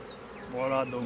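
Close, steady buzzing of many honeybees at an open hive, a dense droning hum that swells slightly louder partway through.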